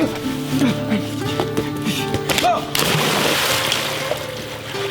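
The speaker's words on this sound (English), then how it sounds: "I tripped over the log and fell right in" A person trips over a log and falls into water outdoors, landing with a sudden loud splash followed by continued sloshing. Voices and background sound come just before the plunge.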